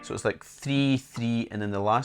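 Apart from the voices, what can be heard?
No distinct noise like a dog, phone or traffic.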